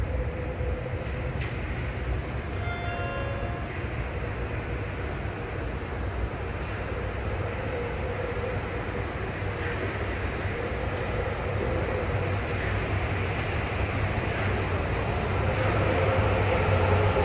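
A Sapporo subway train bound for Makomanai pulls into platform 1 at Asabu Station during track equipment renewal work, a heavy, continuous low rumble with rushing air that builds gradually as it arrives, brief faint tonal chimes early on.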